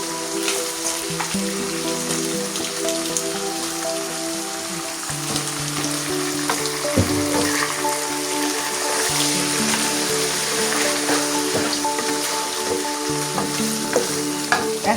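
Katla fish pieces frying in hot oil in a pan, a loud, continuous close sizzle with occasional stirring scrapes and a faint tonal hum underneath.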